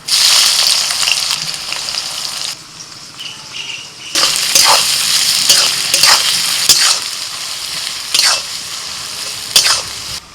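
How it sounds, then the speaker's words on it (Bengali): Chopped onions frying in oil with whole spices, bay leaves and mace for white egg polao, a loud bright sizzle that briefly drops quieter, then returns with repeated sharp stirring clatters, close and without talk. "পেঁয়াজটাকে একটু সময় নিয়ে ভাজতে হবে"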